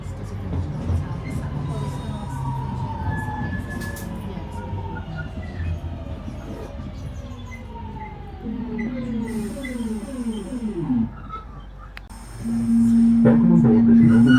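A Northern passenger train running between Blackpool and Manchester Airport, heard from inside, rumbles steadily while rising and falling motor whines sweep through, ending with a long steady tone as the noise swells louder.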